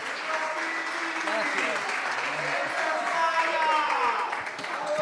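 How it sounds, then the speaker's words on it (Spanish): A crowd applauds warmly, a dense, steady burst of clapping that carries on throughout without letting up. "Lo recibimos con un fuerte aplauso"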